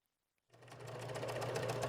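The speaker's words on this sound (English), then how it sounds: "So now I'm going to do all my top stitching." A sewing machine top-stitches the waistband of girls' pants, starting abruptly after a brief silence and running as a steady fast mechanical whir with a low hum, close and fairly quiet.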